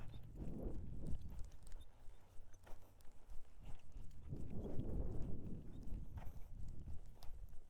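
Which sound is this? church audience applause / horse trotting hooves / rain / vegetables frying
horse trotting hooves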